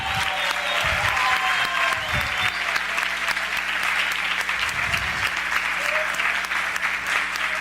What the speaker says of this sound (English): This is an applause.